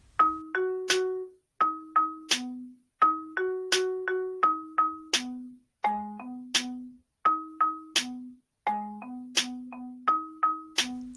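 A short melody composed in Music Lab plays back as clean, plucked, bell-like notes in a steady rhythmic pattern, each note decaying quickly, clear and close with no voices.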